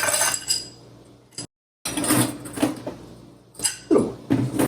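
Ice cubes clatter and clink into a glass for a whiskey cocktail rinsed with absinthe, a close run of rattling knocks with a brief gap and a few sharper clinks near the end.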